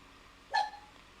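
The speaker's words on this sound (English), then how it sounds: "Dog. Sounds like we got a critic." A single short dog bark sounds once, fairly faint and slightly distant, against a quiet room background.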